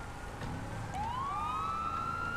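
A fire engine siren gives a short rising blip over a low background rumble on a roadway. The tone climbs and then holds steady, mid-distance and moderately loud.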